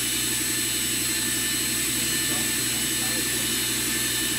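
Walter Helitronic Mini Power CNC tool and cutter grinder with its spindle running at 4,000 RPM and compressed air blowing, a constant loud airy hiss over a steady high mechanical whine, with a faint hum underneath.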